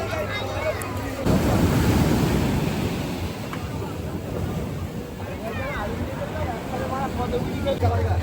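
Rough sea waves roll onto the shore at Old Digha beach, a broad, continuous rushing surge with wind buffeting the microphone, crowd noise and voices faintly mixed in beneath the roar.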